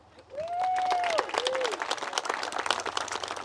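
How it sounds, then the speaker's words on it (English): Comedy club audience applauding and cheering first-time guests at a live comedy show, with a whistle rising early and scattered claps continuing near and moderately loud behind faint talk and background music. "round of applause if this is your first time here"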